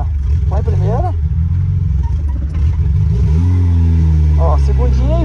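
Chevrolet Chevette engine revving hard and changing pitch during a drift lesson, a loud, continuous mid-range drone that climbs and falls, with people talking over it.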